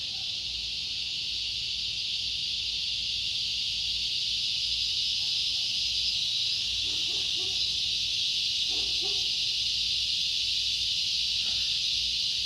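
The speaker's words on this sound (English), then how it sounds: "The cicadas are getting louder, and they're penetrating my brain enough to distract me" Cicadas drone in a loud, continuous high-pitched buzz that holds steady throughout, with faint scattered sounds beneath it.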